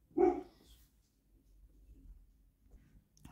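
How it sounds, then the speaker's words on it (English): A dog barks once or twice downstairs in a house, a short loud burst at the start, then only faint room noise. "And the dog's being naughty downstairs."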